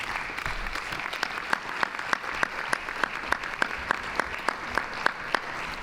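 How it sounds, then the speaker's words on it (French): Audience at a regional associations assembly plenary claps in a steady rhythmic unison, distinct even beats over a wash of general applause, loud and without speech. "on peut vous applaudir, soyez fiers de vous"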